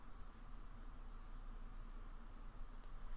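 Crickets chirp in tall grass on a hillside, a faint, continuous high trill steady throughout, with no voices.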